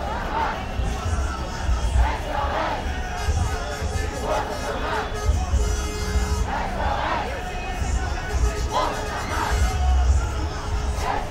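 Large protest crowd in Natal outside the 16th Battalion, chanting and shouting in rhythmic waves of massed voices, dense and continuous with recurring swells, heard from within the gathering.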